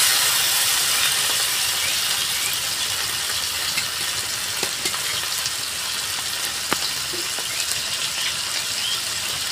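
Whole pomfret fried in masala with a splash of water sizzles and crackles steadily in a pan, with occasional sharp ticks and pops and no voices.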